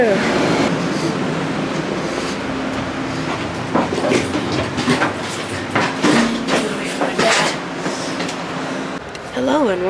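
An Amtrak California Zephyr train rolls along with a steady rumble and intermittent rhythmic clacks and squeals, heard from inside a car while a person talks over the running noise.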